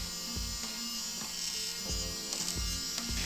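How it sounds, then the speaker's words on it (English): A cheap small handheld vacuum with a weak fan runs steadily at close range, giving a thin, even motor whine broken by a few faint clicks and bumps. "you can even hear that the fan in there is not very strong"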